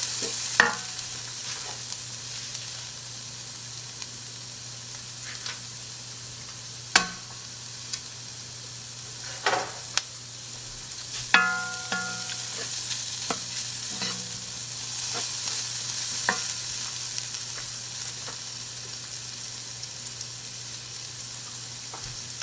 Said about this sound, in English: I'm going to chop it up, give it a stir.